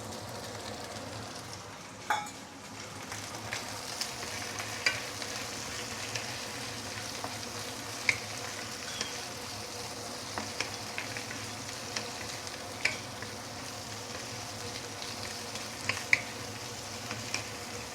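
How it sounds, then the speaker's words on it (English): Prawns and vegetables sauté in a pan with garlic in a low, even sizzle, broken by light spatula clicks and taps against the pan at scattered intervals. "Let's at least saute the prawn to be about half cooked"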